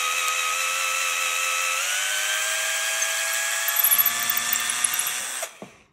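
A power drill whines steadily, its pitch rising as it bores through driftwood, then winds down and stops with a faint clatter at the end.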